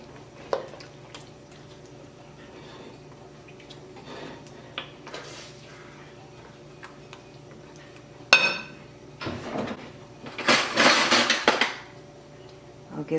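A spoon stirring beef and curry powder in a pan, giving sparse clinks and scrapes against the metal, with louder clattering bursts near the end and faint background hum.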